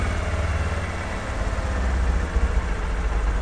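A motorcycle engine idles at raised RPM, a steady close, low throbbing hum with slight unevenness and no talk over it.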